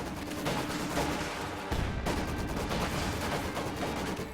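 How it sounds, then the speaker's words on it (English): Heavy machine gun fire in a World War II strategy game rattles steadily in a dense, sustained stream of shots, with a brief break midway and distant battle noise underneath. "Under HMG fire!"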